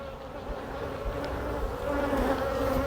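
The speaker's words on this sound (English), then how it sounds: "Here's my half a cup of bees" Honeybees buzzing close up in a half-filled cup, a steady droning hum that swells slightly louder toward the end, with no voices.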